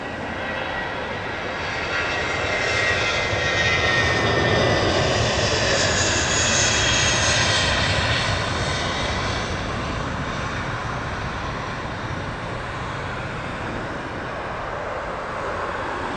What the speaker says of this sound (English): And I'll let the aircraft go.